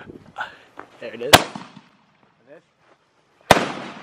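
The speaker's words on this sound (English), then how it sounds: "Easiest way to light a firework." A firework is lit and fires off in two sharp, loud cracks about two seconds apart, with people talking and exclaiming in the pauses before and between the bursts.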